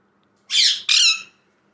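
Talking parrot giving two loud, harsh squawks in quick succession, close and clear against near silence.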